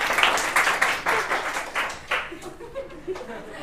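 Scattered applause and light laughter from a classroom audience of students, brief uneven claps fading after a couple of seconds, with murmuring voices continuing underneath.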